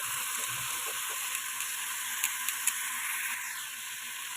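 Chicken pieces frying in a pan for biryani give off a steady, even sizzle with faint clinks of stirring now and then, and no talking.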